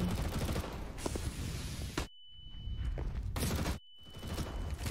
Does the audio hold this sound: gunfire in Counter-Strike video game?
yes